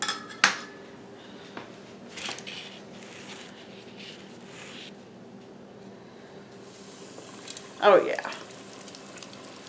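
Oysters in hot oil around 343 degrees deep frying, with a thin steady sizzle, a few metal clanks from utensils, and a louder crackling burst near the end; someone says a few words.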